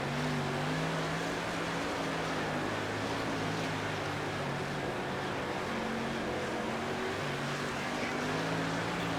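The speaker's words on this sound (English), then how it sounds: "Still seeing us redline the motor a little bit at the end, towards the end of the runs." A street stock car engine in the World of Outlaws: Dirt Racing 24 video game roars steadily near redline on a dirt track, a dense continuous drone with a sustained engine tone throughout and no talking.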